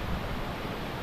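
Mae Pan waterfall in Chiang Mai roars as a dense, steady wash of falling water, loud and close, with no voices.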